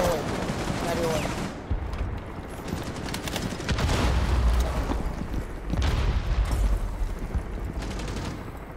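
Gunfire bursts from the tactical shooter game Rainbow Six Siege, rapid shots in clusters over a steady rumbling game backdrop, with players talking over the action.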